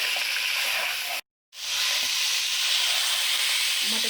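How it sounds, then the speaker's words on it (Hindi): Mutton frying in a pan with garlic ginger paste gives off a steady, bright sizzle and hiss, broken by a short silent gap before the frying resumes. "मटन को 4-5 मिनट अच्छी तरह फ्राई करेंगे।"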